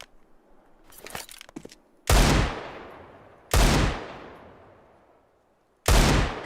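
A Desert Eagle pistol fires in the Counter-Strike video game, three loud, sharp shots spaced a second or two apart. Each has a booming body and a long decaying tail, after a few light mechanical clicks.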